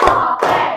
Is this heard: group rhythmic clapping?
yes